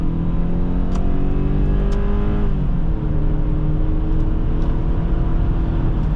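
A 2005 Subaru Outback 2.5 XT pulls hard under acceleration, a steady engine drone rising in pitch and then settling as it shifts, heard from inside the cabin with a continuous road roar.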